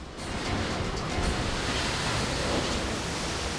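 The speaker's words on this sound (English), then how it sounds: "As giant waves wash out the sand from beneath her house, DeWitt's neighbors put their lives on the l" Giant storm-driven ocean waves surging over sand beneath a beach house, a continuous loud roaring wash of surf with wind buffeting the microphone, no voices.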